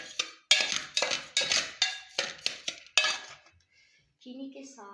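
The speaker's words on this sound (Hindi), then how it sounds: "ये चीनी इसमें मिक्स करते हैं।" A spoon works sugar into semolina halwa in a metal pan, making a series of sharp, rhythmic clinks and scrapes that fade out, followed by a faint voice.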